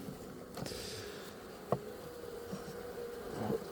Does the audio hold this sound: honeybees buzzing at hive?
yes